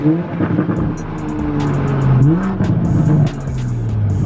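A car engine revs hard in third gear and climbs in pitch, loud and close, with a brief dip before rising again.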